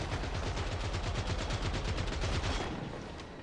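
Rapid automatic gunfire from a first-person shooter, Killing Floor 3, rattles in a dense continuous burst for about two and a half seconds, loud and close, then cuts off into a fading tail.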